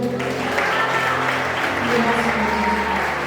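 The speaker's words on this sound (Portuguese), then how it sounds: "Aplauda bem forte a Ele." A church congregation claps strongly in praise, a thick sustained wave of applause over held keyboard chords, with a voice faintly present beneath the clapping.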